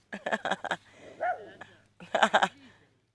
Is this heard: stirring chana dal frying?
no